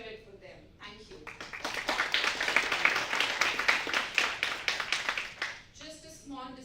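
An audience at a college research symposium in Dubai claps together, the applause swelling to a dense, steady patter for a few seconds before thinning out, with a voice speaking briefly before and after.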